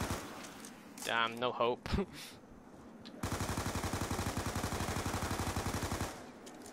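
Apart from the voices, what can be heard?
gunfire in Black Ops 2 Zombies video game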